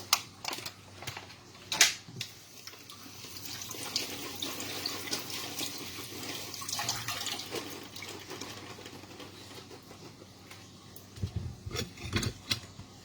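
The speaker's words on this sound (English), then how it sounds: "Let me rinse out my blueberry." Tap water runs over blueberries being rinsed in a kitchen sink, a soft splashing flow that swells and fades, broken by a few sharp clatters and knocks from handling.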